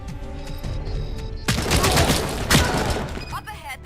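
AK-74 gunfire in a Robocop video game erupts as loud, rapid automatic bursts that suddenly replace the calmer game ambience and keep going to the end.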